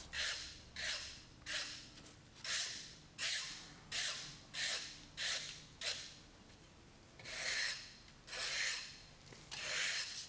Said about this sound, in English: We're just going to come across and put some soft scratches in it.